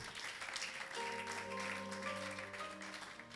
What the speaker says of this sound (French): Acclamez la gloire de notre Dieu